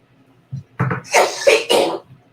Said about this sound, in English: Excuse me, I need to cough again.